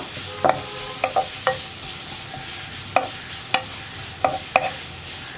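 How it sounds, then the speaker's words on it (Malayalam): Grated carrot being sautéed over high flame in a pan, with a soft background sizzle broken by sharp, irregular scrapes and clinks of a spoon stirring against the pan, about a dozen distinct strokes. "ഇനി ക്യാരറ്റ് ഒന്ന് കുക്കായി വരുന്നത് വരെ ഒന്ന് വഴറ്റി കൊടുക്കുക"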